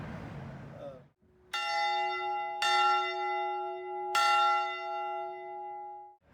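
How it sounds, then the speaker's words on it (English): A 1902 church tower bell at a First United Methodist church rings three times, loud and close, each strike ringing out with a long sustained tone that overlaps the next; a brief voice is heard just before. "this bell has been up here since 1902, give or take a few months, don't know exactly the date, and it still works."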